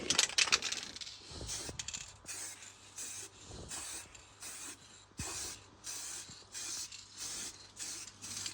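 Bursts of spray from a rattle can painting a Harley Benton DIY guitar kit: a string of short hissing sprays repeating at a steady pace, close and fairly loud, with a can rattle at the start.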